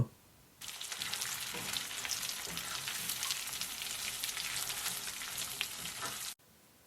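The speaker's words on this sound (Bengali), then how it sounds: "আমগুলোকে আমরা নেড়েচেড়ে ভালোভাবে মশলার সাথে মিশিয়ে দেব।" Raw mango pieces sizzle and fry in hot oil with spices for a sweet-sour mango pickle, a steady close crackling hiss with a few stirring scrapes, starting abruptly and cutting off at the end.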